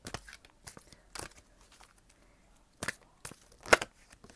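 Oracle cards are shuffled in a few quick, crisp riffling bursts separated by quiet gaps, soft and close.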